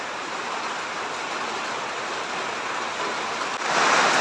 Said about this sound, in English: Some rain just started now.